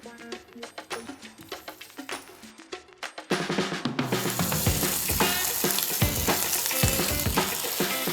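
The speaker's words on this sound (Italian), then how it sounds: "fuoco bello vivo e rosoliamo per bene tutto il pollo in tutta la sua superficie" Loud, steady sizzling of chicken browning in hot extra virgin olive oil over high heat, quieter clatter at first, then a sudden surge into a dense crackling hiss that continues.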